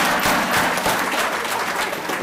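A conference audience at DICOTA 2014 applauding: steady, dense clapping from many hands, sustained throughout without a break.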